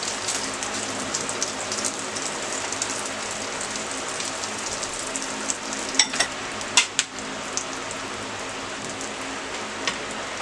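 Beaten egg mixture fries in a pan on low heat, a steady soft sizzle like light rain, with a few sharp clicks and scrapes of a spoon spreading it midway.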